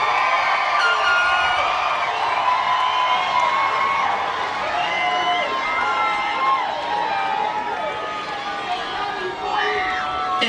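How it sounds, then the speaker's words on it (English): A graduation ceremony audience rises to applaud and cheer for graduates' families, with dense, steady crowd noise, clapping and scattered whoops filling the hall and mixing with voices throughout. "Give them a round of applause."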